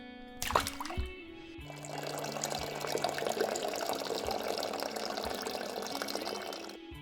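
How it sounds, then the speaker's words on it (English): Water splashes and pours steadily up close, with a sharp splash near the start and a continuous churning wash after. "The splash sound and water ambience sounds came from, guess what, actual water."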